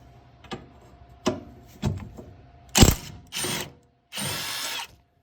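Power tool whirring in short bursts while removing seat bracket bolts on a 2019 Yamaha Wolverine, with clicks and clunks between bursts and longer final runs, close up with no speech.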